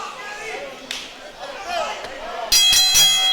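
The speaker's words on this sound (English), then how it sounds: "Referee calls for the bell." Muffled crowd and commentary noise at a live wrestling match, then a loud metallic ring bell rings several times in quick succession near the end.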